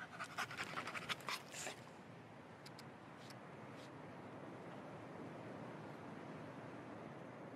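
A dog pants in the video game Remnant II, quick breathy bursts at the start over a steady wash of noise that carries on alone afterward.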